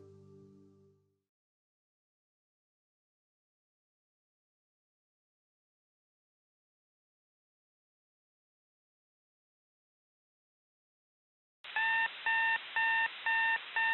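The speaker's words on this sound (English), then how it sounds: "The alarm goes off" An alarm clock rings on a cold winter morning, a loud pulsing electronic beep in regular bursts that starts abruptly near the end after a long silence, preceded briefly by a low murmur.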